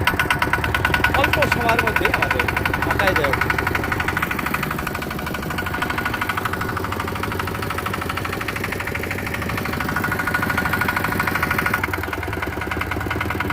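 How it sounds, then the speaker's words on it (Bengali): A motor boat engine runs steadily on the Brahmaputra river during a hilsa fishing trip, a continuous mid-pitched drone heard close and loud throughout, with someone talking over it. "নৌকা স্টার্ট হলো,"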